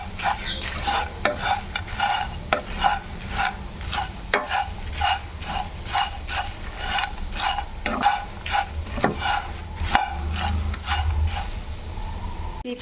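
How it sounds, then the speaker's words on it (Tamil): Flattened rice (poha) and peanuts are roasted and stirred in a pan, with rhythmic scraping and rattling strokes repeating about twice a second over a soft sizzle, close and loud, no talk. "போஹா ஒரு 5 மினிட்ஸ் வந்து நல்லா ரோஸ்ட் பண்ணிக்கோங்க"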